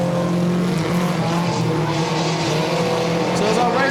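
Junior sedan race cars roar around the track in close pursuit, one running up on another's bumper. The engine drone is loud and sustained, with a race commentator talking over it.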